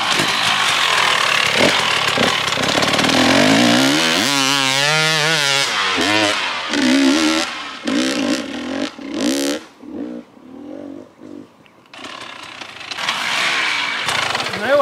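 A tuned KTM motorcycle on a test ride, its engine revving hard with rising and falling pitch as it runs through the gears, loud and close, then dropping away to gaps and revving again later.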